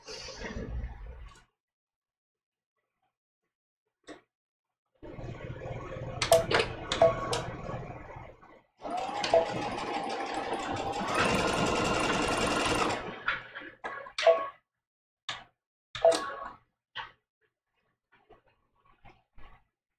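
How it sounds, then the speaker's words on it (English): A sewing machine back stitching through a quilted placemat runs in several short, close bursts of fast mechanical stitching, with one longer steady run in the middle and brief quiet gaps between. "All right, back stitching"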